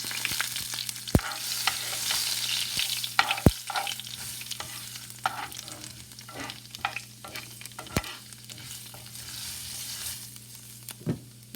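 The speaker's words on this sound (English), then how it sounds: "Let's add it in the hot oil quickly. Fry for few seconds" Curry leaves frying in hot oil, a steady crackling sizzle with occasional sharp pops and stirring clinks, close and alone without any talk.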